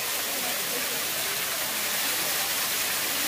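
The waterfall at Kapila Theertham in Tirupati gives an unbroken, even hiss of falling water that holds steady at a moderate distance, with no other sound on top.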